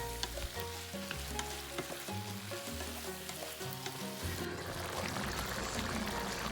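Beef stew ingredients with tomato paste sizzle and fry in a pot while being stirred, a close, steady crackle with scraping stirring strokes and no talking.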